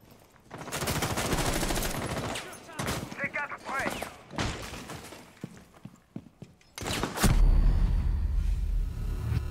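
Video game gunfire in bursts, sharp rapid shots and crackling volleys between quieter gaps, ending in a loud rumbling explosion-like stretch, with French speech heard between the shots.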